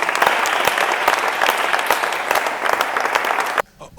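A church congregation at a youth debate gathering applauds its pastor with loud, dense clapping and a few sharper individual claps, cutting off abruptly near the end into near silence.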